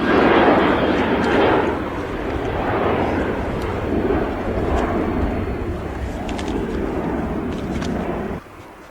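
Airliner landing on runway 23 right at Manchester Airport, a loud broad roar of engines and rushing air that swells early then holds steady before cutting off near the end.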